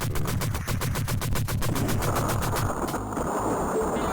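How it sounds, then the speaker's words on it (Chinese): Light machine gun firing in an arcade shooter game, a rapid rhythmic burst of loud repeated shots for over two seconds before trailing off into a noisier electronic wash. "这是轻机枪"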